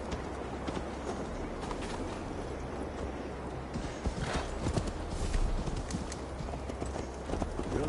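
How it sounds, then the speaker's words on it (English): Hooves clip-clop in a fast, rhythmic gallop as a horse runs in the Assassin's Creed Valhalla video game, loud and near with a brief whinny, and game ambience runs underneath. "Mount up, Eivor. It's a long ride to Tamworth."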